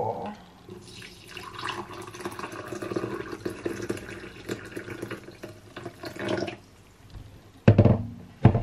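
Tea poured into a cup at home, a thin trickling stream running for several seconds before stopping, followed by a couple of louder clinks or bumps near the end.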